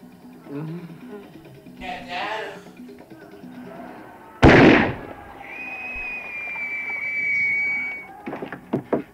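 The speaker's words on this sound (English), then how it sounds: "There's somebody firing rockets." Rockets or flares fired in the 1979 film Zombie: a sharp, loud blast followed by a long, steady whistling tone as the projectile flies, with people talking before and around it.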